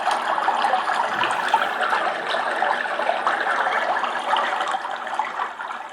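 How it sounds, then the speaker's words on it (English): Water flowing steadily at a gentle, even level, a soft continuous rush and trickle with no voices. "flowing water"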